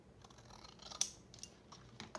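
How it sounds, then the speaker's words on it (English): A few quick, crisp scissor snips cut through something thin, close by and fairly quiet, with no talking. "Get my scissors and trim that off"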